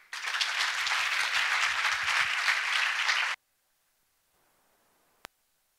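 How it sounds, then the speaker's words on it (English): A conference audience claps for Dave Birss in a dense, steady burst of applause lasting about three seconds. The clapping cuts off abruptly into near silence, followed by a single sharp tap. "So a huge round of applause for Dave Birss."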